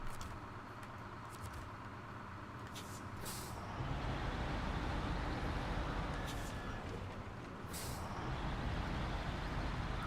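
A video game truck with air brakes idles and rumbles steadily, with a few sharp hissing air-brake bursts standing out over the engine noise.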